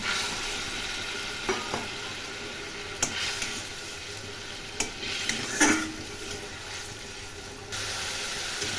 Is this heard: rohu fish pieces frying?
yes